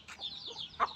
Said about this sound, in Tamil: அந்த சேவல் பாருங்கள், சூப்பர்.